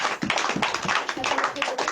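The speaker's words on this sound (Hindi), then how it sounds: "ताली बजा सकते हैं प्रभु के मन।" A church congregation claps along in a steady rhythm, the sharp beats packed close together and sustained at moderate volume throughout.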